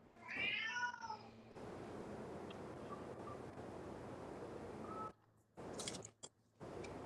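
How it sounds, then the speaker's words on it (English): A vocal female house cat lets out one loud, close meow at the start. A steady windy hiss follows, broken by brief gaps and a few faint thumps. "she's an extremely vocal, spicy cat, and you are all hearing that right now"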